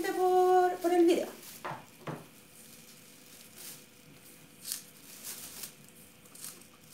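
Paper slips are stirred inside a small bag for a prize draw, giving light, crinkly rustles in scattered bursts after a brief tonal chime at the start.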